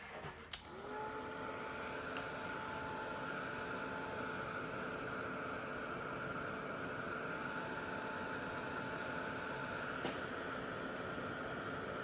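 A heat tool blows steadily to dry paint on a Halloween papercraft card, a constant whirring hum that starts with a click and runs on close and alone.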